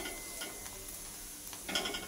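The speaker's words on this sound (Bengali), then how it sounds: "পরোটাগুলোকে ভেজে নিতে হবে এইভাবে" Semolina paratha frying in a little white oil in a pan, a quiet steady sizzle with occasional soft scraping or stirring touches and a brief louder crackle near the end.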